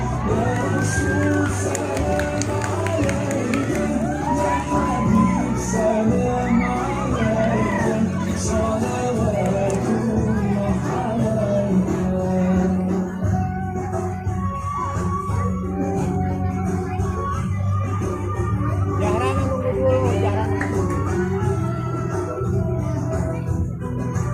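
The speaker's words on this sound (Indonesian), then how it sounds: "Beri tepuk tangan untuk kelas" Crowd of schoolchildren and adults cheering, shouting and clapping for class 4 at a National Teachers' Day school celebration, a dense, continuous roar of voices with music and babble running steadily throughout.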